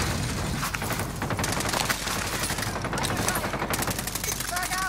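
Rapid automatic gunfire in the video game Call of Duty Warzone, dense, continuous bursts filling the whole stretch, with voices talking over the shooting.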